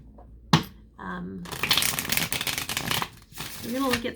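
Tarot cards are shuffled for a reading in a quiet room: a sharp riffle, then a longer dense rush of cards sliding and flapping against each other, with a short voice heard near the end.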